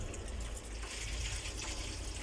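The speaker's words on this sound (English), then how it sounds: "So if I fill this up with water" Tap water running steadily into a sink in a Nu Venture Caletta caravan, a continuous broadband rushing gush at close range with no talk, holding an even level throughout.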